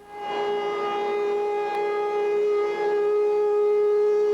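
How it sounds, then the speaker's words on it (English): A civil defense siren in Egan, Minnesota wails steadily, a loud sustained tone with harmonic overtones holding throughout, no voices present. "If the civil defense system in Egan is activated, sirens will be heard all over the state."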